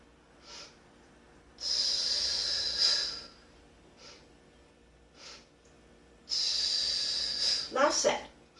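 A person doing a slow exercise movement breathes audibly, with two long hissing exhales through the mouth and a few softer sniffs and breaths between them, close and alone.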